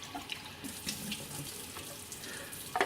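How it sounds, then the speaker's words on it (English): Tap water runs over a Mr. Coffee Cafe Barista part being rinsed in a sink, a faint steady splashing with small clatters. "so you give her a little rinse"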